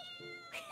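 A cat meows in Genshin Impact, a short, quiet, tonal two-part call with a brighter rising end.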